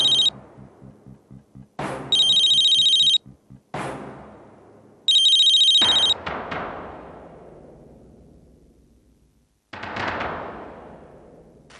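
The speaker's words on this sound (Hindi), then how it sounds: "मेरा फोन बज रहा है।" A mobile phone ringtone rings in repeated loud electronic bursts, separated by sharp booming hits and fading dramatic effects, in a Hindi TV serial scene; no one speaks.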